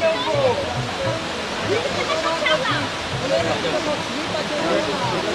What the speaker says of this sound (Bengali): এবারে দেখো ঝর্ণা